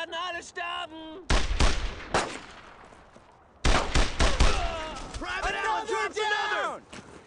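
Gunfire rattles in a World War II firefight in Brothers in Arms, loud bursts and booms starting after a second and returning later, while soldiers shout over it.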